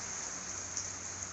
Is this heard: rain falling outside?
yes